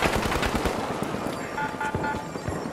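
A SCAR assault rifle firing in the shooter game The Finals: rapid, loud, close-up automatic fire in a steady, sustained rattle of shots.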